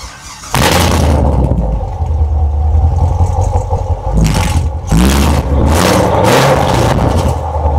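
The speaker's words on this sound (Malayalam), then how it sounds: "അപ്പോൾ നമുക്ക് കോർവെറ്റ് ഒന്ന് സ്റ്റാർട്ട് ചെയ്ത് നോക്കാം" A Chevrolet Corvette C7 V8 starts with a loud bark, settles into a heavy rumbling idle, then gets several sharp throttle blips that roar up and fall back, close to the car.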